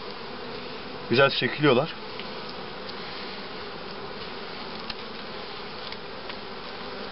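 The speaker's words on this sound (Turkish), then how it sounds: "Yani arı yavaş yavaş kendini kışa hazırlıyor." Honeybees hum in a low, constant drone at an opened hive during a colony check before winter, close by, with brief speech partway through.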